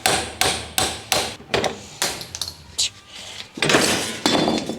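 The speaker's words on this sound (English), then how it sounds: "I just had a nice little punch, a hammer. I tapped the bearing and the seal out together as a unit" A hammer striking a punch to drive out a wheel bearing and seal from a 20-year-old Toyota Cruiser: about a dozen sharp metallic taps at a steady rhythm, close and loud, ending in a cluster of quicker blows.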